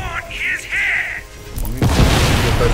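In the shooter game Crysis 2, warbling high tones come first, then a rocket explosion bursts into a loud, rumbling blast that fills the rest of the moment.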